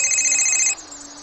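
A cellphone ringing with a bright, high electronic tone held for most of a second before cutting off abruptly, leaving quiet room tone.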